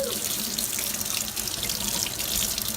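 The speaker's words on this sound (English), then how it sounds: "now I'm gonna put it under the sink," Water runs steadily from a sink tap over a closed plastic waterproof case, a continuous close splashing rush with no talking.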